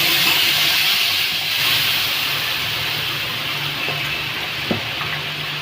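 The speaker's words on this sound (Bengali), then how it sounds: "আমড়াগুলো ঢেলে দেব।" Hog plums poured into a hot pan with turmeric for a chutney, giving a steady loud sizzling hiss throughout with faint clinks of utensils.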